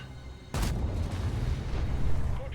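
A tank cannon fires at an enemy in a World War-era armored combat game, one sudden loud boom followed by a sustained rumbling roar and engine drone that fills the rest of the moment.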